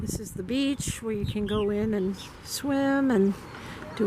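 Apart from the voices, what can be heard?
No everyday noises stand out.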